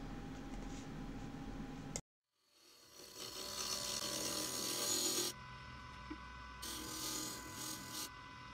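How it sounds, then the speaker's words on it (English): The wooden cup of a champagne flute is shaped on a woodturning lathe, giving a close rasping, rubbing scrape. A short silent gap comes early, then the scraping returns in uneven bursts of varying loudness. "I'm continuing with shaping the cup of the flute"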